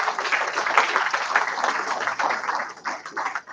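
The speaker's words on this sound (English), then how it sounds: "So they need a round of applause for getting it done." Audience applause at a community board meeting, a small room of people clapping briskly for a few seconds, the claps uneven and tapering off near the end.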